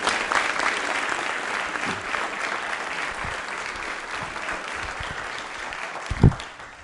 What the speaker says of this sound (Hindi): तालियां जोरों से बजनी चाहिए